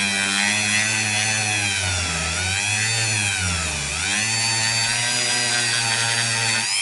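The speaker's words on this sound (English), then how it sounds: "I'm using the Dremel, which I've gently worked its way in" Dremel rotary tool grinding into a Fender Modern Player Telecaster guitar body to open a pickup cavity, a loud steady high whine with shifting pitch as the bit bears down, continuous and close with no talk.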